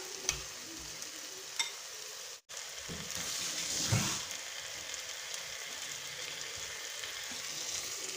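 Onions sautéing in a pan with chili, coriander and turmeric powder for beef biryani, a faint steady sizzle with a few clicks and a stirring scrape near the middle.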